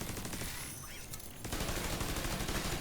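Automatic turret firing and burning enemies in The Division 2 video game, a dense, continuous rattle of gunfire and fire crackle that eases briefly midway and then resumes loud and steady.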